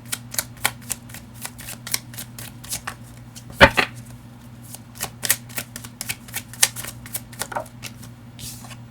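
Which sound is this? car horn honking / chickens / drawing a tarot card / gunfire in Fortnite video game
drawing a tarot card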